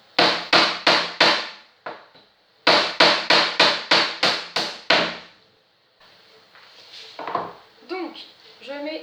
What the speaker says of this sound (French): Et on va clouer.